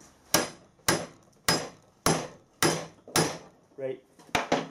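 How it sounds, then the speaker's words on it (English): Sharp metallic hammer blows on a bronze bearing ring out one after another at an even pace, about eight strikes, close and loud, with a quick double hit near the end. "I have got a bigger hammer just in case."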